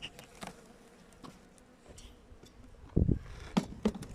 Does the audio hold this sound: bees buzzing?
yes